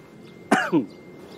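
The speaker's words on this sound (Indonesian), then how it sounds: "kenapa pian batuk?" A single short cough, close and fairly loud, against a quiet background.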